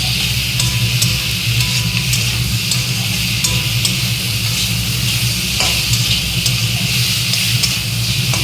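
Bhetki fish fries in a pan with turmeric, salt, cumin and chili powder, giving a loud, steady sizzle with occasional stirring scrapes, continuous and close, with no one talking.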